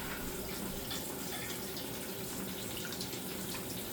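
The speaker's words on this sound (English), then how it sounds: "Let me rinse out these cans." Sauce cans are rinsed under a running kitchen faucet, giving a steady, close hiss of flowing water that stays level the whole time, with no talking.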